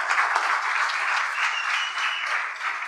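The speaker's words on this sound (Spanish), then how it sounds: "un aplauso al señor David Reynoso" Audience applause at a comedy show, a dense, sustained wash of many hands clapping at once, steady and fairly loud for the whole stretch, easing slightly near the end.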